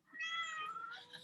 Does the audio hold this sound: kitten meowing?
yes